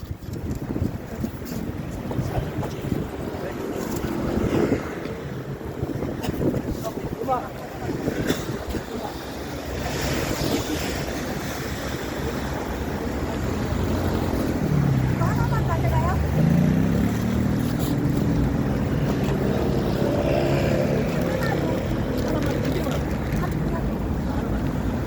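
Strong wind buffets the microphone outdoors at a street protest in front of South Korea's Supreme Court in February, a steady, loud roar with low rumble throughout and faint voices mixed in underneath.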